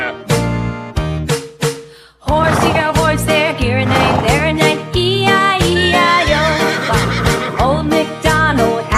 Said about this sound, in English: Horse here, horse there, here and there and E-I-E-I-O.